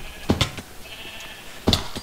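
A sheep in the Minecraft video game bleats twice, short nasal calls about a second and a half apart, fairly close over a quiet background with no talking.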